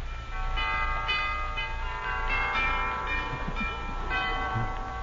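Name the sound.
doorbell ringing, radio show sound effect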